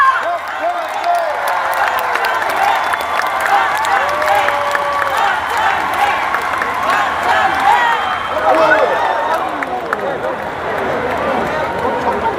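A crowd at a party national convention gives warm, sustained applause mixed with cheering and crowd noise, loud and continuous throughout.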